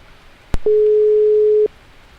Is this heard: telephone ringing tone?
yes